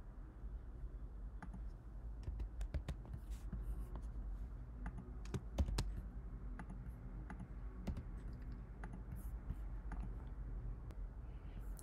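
Someone types on a computer keyboard while editing a template, producing scattered faint key clicks over a steady low hum in a quiet room.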